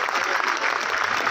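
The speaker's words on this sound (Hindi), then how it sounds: "उन सब साथियों के लिए जोरदार तालियां" Loud crowd applause at a state ministry employees' strike rally speech, a short dense burst of many hands clapping close by.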